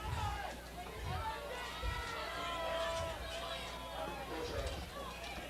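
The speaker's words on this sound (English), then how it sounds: "The crowd's getting ugly. They want some push-ups." Sports crowd in an arena shouting and chanting for push-ups, a dense, loud roar of many voices with rhythmic pulses of stomping or chanting throughout.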